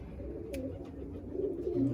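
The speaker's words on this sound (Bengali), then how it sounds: "এই যে সব নর পায়রা।" Male Madrasi and Andhra pigeons cooing softly in a loft, low continuous murmuring coos overlapping at moderate distance, with faint background noise.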